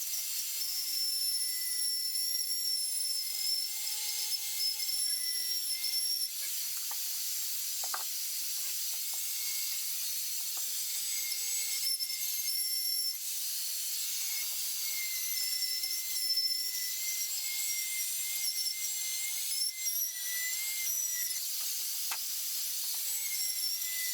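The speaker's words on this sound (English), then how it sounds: "this tool, this cutout tool" A rotary cutout tool bores through a mobile home wall, giving a thin, high-pitched drilling whine with a hissy edge. It runs steadily at moderate volume, wavering slightly as the cut progresses.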